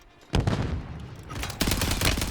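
Rapid automatic gunfire in the Warzone shooter game, loud and close: a sustained burst of shots, a brief lull, then another dense volley through to the end.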